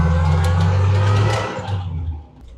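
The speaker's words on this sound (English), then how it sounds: "So it seems a lot more sort of rattly, Neil, and kind of noisy just generally" Classic MGB sports car engine while driving, a loud close rumbling drone from inside the cabin that dips and eases off near the end.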